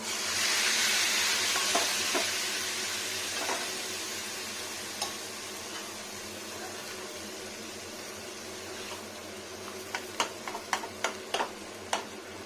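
Papaya stirred into fish roe and onions frying in a pan, a steady broadband sizzle throughout with scattered clinks of a spatula, a quick run of sharper ticks near the end, no voices.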